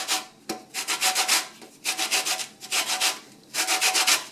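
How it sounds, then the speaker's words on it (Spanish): Orange peel is grated in quick scraping strokes, several short rasping bursts close by, separated by brief pauses. "Vamos a rallar la piel de una naranja"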